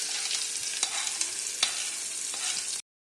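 A spoon stirs a hot sizzling tempering into chutney, with a continuous crackling fry hiss and a few sharp scraping clinks against the pan before the sound cuts off abruptly.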